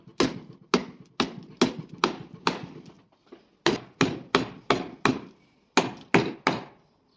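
A paper cutter blade chops repeatedly into material, sharp loud thwacks in uneven bursts of four or five strikes, each decaying quickly, with short pauses between groups.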